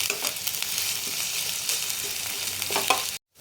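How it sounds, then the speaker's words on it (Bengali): Chopped onion frying lightly in hot oil in a home kitchen, a steady close sizzle with occasional stirring scrapes, cutting off abruptly at the end. "পেঁয়াজটাকে হালকা করে ভেজে নেবো একটু।"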